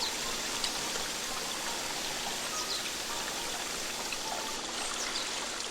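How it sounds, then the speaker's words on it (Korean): Water pours steadily down a small man-made summer waterfall on Nami Island in Gapyeong, fed by pumped groundwater, making a continuous close splashing rush with no voices. "시원한 물소리로 사람들의 발길을 잡는 곳"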